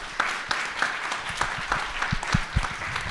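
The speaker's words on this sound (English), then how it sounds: "round of applause for our guests." Audience at a sleep-science panel discussion applauding its guests, steady moderate clapping throughout with a few sharper individual claps standing out near the end.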